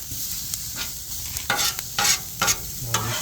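Onions sizzling and being stirred on a Gridiron 36 griddle, with steady frying hiss and several louder scraping, spatula-stirring bursts close by, no talk.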